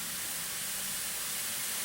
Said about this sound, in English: we've got our cut up peppers and onions. And that's got to cook a little bit.